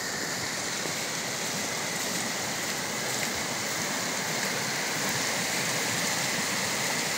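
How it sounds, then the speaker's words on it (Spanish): Water flows steadily from the Arguis reservoir on a snowy day, a broad, even rushing wash that stays constant throughout with no voices over it. "De fondo escuchamos agua que proviene"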